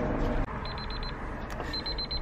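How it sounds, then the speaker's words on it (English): An alarm going off during interior work on a Porsche 996, with two short runs of rapid high beeps over a steady loud background rumble. "the alarm went off"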